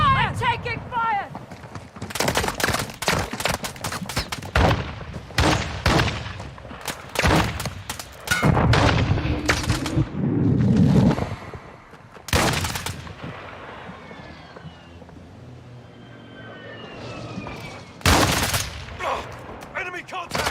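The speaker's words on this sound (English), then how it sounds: "Taking effective fire! I'm taking fire!" Gunfire in the Call of Duty DMZ video game crackles in loud repeated bursts and volleys, with short rapid strings of shots separated by brief pauses, while players shout over the fighting.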